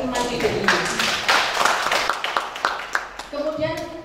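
Audience applause for visiting artists at a comedy performance session, irregular claps from a small crowd, fairly close, with voices talking over them and then fading.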